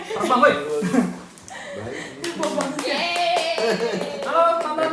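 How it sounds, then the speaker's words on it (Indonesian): A crowd claps for a guest introduced on stage at a lively show, short bursts of hand claps mixed with chuckles and people talking over them. "Tepuk tangan untuk Jojo."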